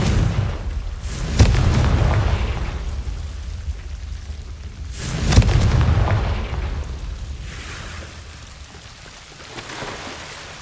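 Two heavy blasts from the Confringo fire spell in Hogwarts Legacy, each a sharp broadband burst with a rumbling tail, roughly four seconds apart, followed by a fainter swell, with no voices.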